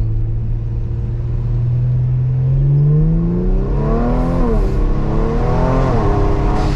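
A modified Kia Stinger accelerates hard under paddle shifts, its engine rising in a loud rumbling pitch sweep, briefly dropping at a gear change, then climbing again from inside the cabin.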